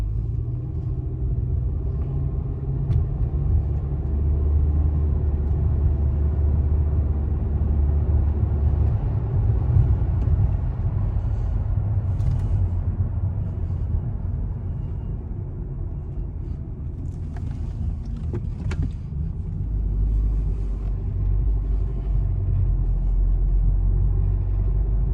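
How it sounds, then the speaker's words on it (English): A car on a test drive around a Crown Point, Indiana dealership lot, its steady road rumble and engine drone continuous and fairly loud from inside the cabin, with no talk. "I want to go ahead and drive this vehicle for you"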